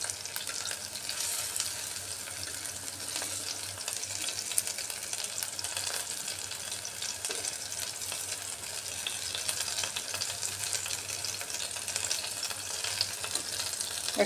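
Pieces of rui or katla fish belly, coated for fish pakora, fry steadily in hot oil with a continuous crackling, bubbling sizzle at moderate volume and no talk.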